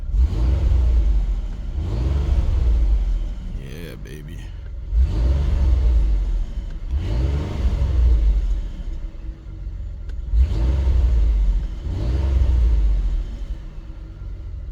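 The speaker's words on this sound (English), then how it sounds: "You want to hear the exhaust?" Exhaust of a 2013–2019 Ford Taurus Police Interceptor with the 3.5L EcoBoost, revved in repeated bursts: about six deep, loud rising roars, each falling back between pulls, with a brief spoken exclamation partway through.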